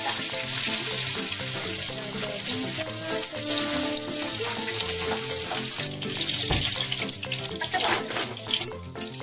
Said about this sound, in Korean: 삼겹살 누님께서 맛있게 익어가고 있습니다